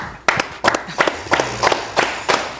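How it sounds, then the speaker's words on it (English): Sharp hand claps repeat about every third of a second, five or six loud strikes in a steady rhythm, close and dry with no talking over them. "I know you're wondering why I'm clapping."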